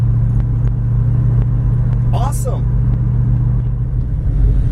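Rumbling low engine drone of a Plymouth Duster with a 318 Mopar engine, driven steadily and fairly loud inside the car, with a short spoken remark over it.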